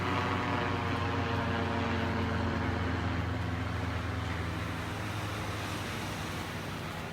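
Steady droning engine noise overhead at a beach in North Naples, Florida, mixed with continuous surf wash; loud throughout and gently fading toward the end, with no talking.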